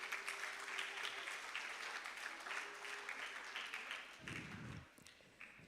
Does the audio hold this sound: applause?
yes